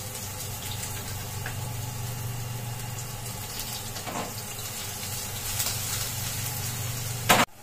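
Onions, chillies, garlic and vegetables frying in a pan give a steady, close sizzle that continues throughout, with a brief louder clatter right at the end.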